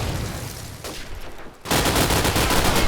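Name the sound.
SMG firing in a video game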